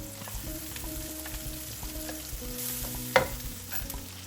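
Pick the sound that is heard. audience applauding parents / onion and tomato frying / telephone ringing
onion and tomato frying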